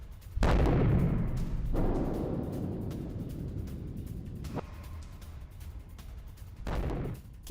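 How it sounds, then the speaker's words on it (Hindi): Several heavy distant booms from explosions during an attack on Kyiv roll out one after another, each with a long rumbling tail, over a low background murmur. "कीव के 10 इलाकों में धमाके सुनाई दिए"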